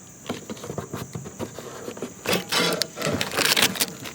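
Plastic backing is peeled off sticky EternaBond roof tape during an Avion roof leak repair, giving a soft, crackly tearing patter that builds into louder rips near the end.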